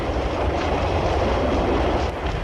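A 1950s Paris metro train gives a continuous, loud, close rumble with a dense mechanical roar and no distinct breaks.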